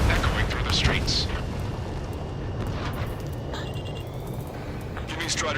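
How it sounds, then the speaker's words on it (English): Gunfire and roaring jets from the Ace Combat 7 video game, echoing through city streets under martial law: a dense, steady rumbling roar fills the scene, with sharper bursts of firing and distant booms near the start and end. "Gunfire and a roar of jets echoing through the streets."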